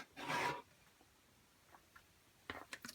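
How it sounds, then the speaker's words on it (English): A blade trims a thin sliver from the edge of a paper card for a watercolored gold leaf project, giving one short, close rasping cut followed by a few faint taps and small handling noises. "You know what, my card, I'm just going to trim a sliver off."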